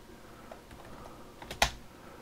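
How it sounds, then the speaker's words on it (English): Quick bursts of keystrokes on a computer keyboard, faint and close, ending in one louder key hit. "I can type. I really can."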